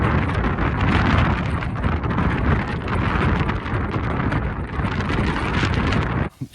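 Cold wind roars steadily and loudly across the microphone outside at a wild camp at night, gusting in a continuous rushing buffet before dropping off abruptly near the end.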